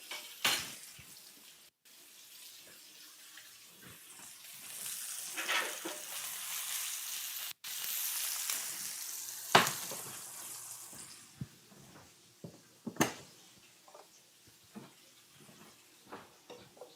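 Skirt steak for arepas sizzling steadily in a hot pan, with broadband frying hiss swelling and fading and a few sharp clinks and spatters from handling, no voices.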